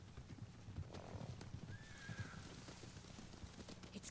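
Horses approaching in the video game Ghost of Tsushima, rendered as faint steady hoofbeats over a low rumbling ambience, with a brief whinny cutting through partway.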